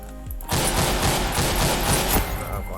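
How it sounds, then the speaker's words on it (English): Rapid semi-automatic sniper rifle fire in the Ragdoll Universe video game, a steady burst of loud, close shots in quick succession with a dense, continuous crackle. "Number 12, we got yet again another legendary, the semi-auto sniper."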